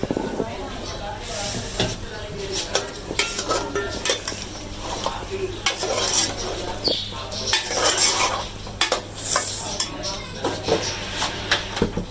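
Half a kilo of chicken with ginger and garlic frying in a pan with a steady sizzling hiss and clinks of a spoon stirring against the metal, under ongoing talk.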